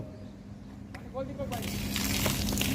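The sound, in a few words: water spraying from a fire hydrant hose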